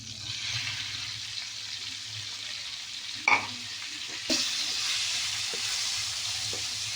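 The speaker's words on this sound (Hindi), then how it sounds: "इसके साथ ही अब हम इसमें डाल देंगे चिकन।" Chicken sizzling and frying in butter with garlic in a pan, a steady hiss with a couple of brief stirring clatters, close and alone without talk.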